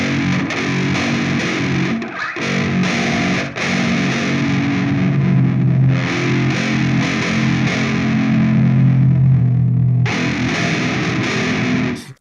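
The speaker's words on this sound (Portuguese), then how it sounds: "quanto mais você vai descendo essa afinação, mais você vai perdendo aí a distorção do seu timbre." Loud, heavily distorted electric guitar run through a drop-tuning preset on an Ampero One pounds out low, thick chords and palm-muted riffs, with a couple of brief pauses and a held chord near the end.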